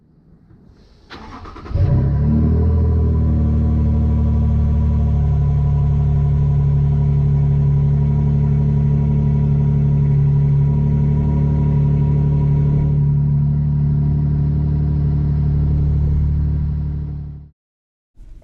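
A 2024 Toyota Tundra pickup truck starts with a brief crank and settles into a steady, close, loud engine hum that holds for about fifteen seconds before cutting off abruptly.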